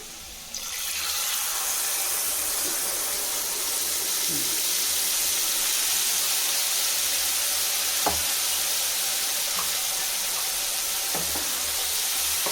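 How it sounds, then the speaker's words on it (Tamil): Tamarind water pours into a hot frying pan for Tamil puli kulambu, setting off a loud, continuous sizzle that hisses steadily, with a few faint clinks of a utensil. "இப்போ கரைச்சி வச்ச புளி தண்ணி சேர்த்துக்கலாம்."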